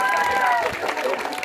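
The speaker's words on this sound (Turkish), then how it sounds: "Alkışlıyoruz Bünyamin'i." Applause for a student at a 23 Nisan school ceremony in Polatlı, a steady patter of clapping from an audience, with a voice speaking over it.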